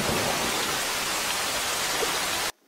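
Heavy rain from a western film scene falls as a loud, dense, uniform roar of downpour that continues without variation before cutting off abruptly at the end.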